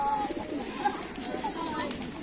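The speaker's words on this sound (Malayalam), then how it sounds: "പ്രാവുകളുണ്ട്" Pigeons at a bird and duck sale yard cooing softly in short low calls, several overlapping at moderate distance over a steady background hum.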